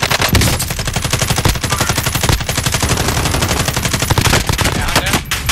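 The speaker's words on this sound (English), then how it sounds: "his boys are shooting at me now" Sustained automatic gunfire in Call of Duty Warzone fills the clip as loud, rapid bursts that are near and continuous, with a few heavier shots over the rattle.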